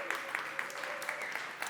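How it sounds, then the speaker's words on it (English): Brief, fairly faint audience applause in a room at the Upscale Conference, scattered claps over a continuous hum, with some speech mixed in. "Let's give yourselves a round of applause."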